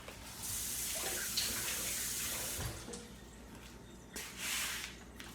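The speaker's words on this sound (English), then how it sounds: "Now let me quickly go and wash this guy off." A whiskey glass rinsed under a running tap in a sink, steady splashing water flowing close by for several seconds, swelling briefly near the end.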